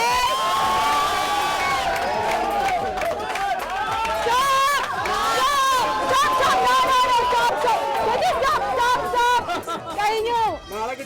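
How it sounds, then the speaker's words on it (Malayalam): An audience at a supermarket road show claps and cheers continuously, a dense wash of applause with shouting and excited children's voices throughout, tapering slightly at the end. "Big round of applause. കൈയടി കൈയടി."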